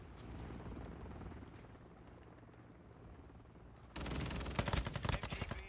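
A SAKIN MG38 machine gun in MW2 unleashes a loud, rapid sustained burst of automatic fire after a stretch of quieter ambient rumble, the shots hammering in quick close succession until the end.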